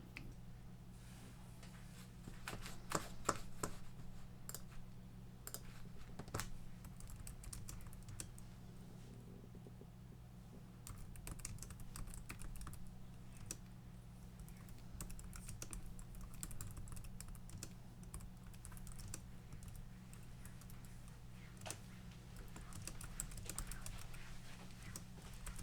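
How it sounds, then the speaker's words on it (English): Someone types on a computer keyboard in a quiet room, producing soft, irregular bursts of key clicks over a low steady hum for nearly half a minute. "This one requires some typing because it's a lot of writing"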